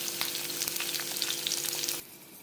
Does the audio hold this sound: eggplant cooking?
yes